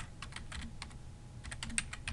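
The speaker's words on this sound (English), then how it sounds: "I'm going to Control A to highlight everything and just type this one out." Quiet, rapid typing on a computer keyboard while entering a chart title in a spreadsheet, a soft, uneven patter of keystrokes in two bursts, heard alone.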